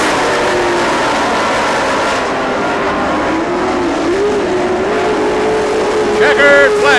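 Race car on the final lap, its engine note climbing and shifting as it passes close and loud, ending with a sharp rising whine and a brief harsh burst near the end.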